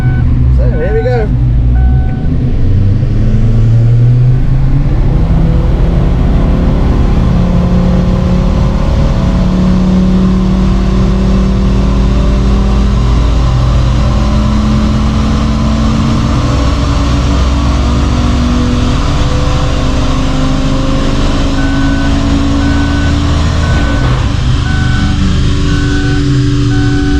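A Ford Focus ST strains on a dyno under load, its engine droning continuously as the revs climb and settle, with someone talking over it and a steady beeping near the end.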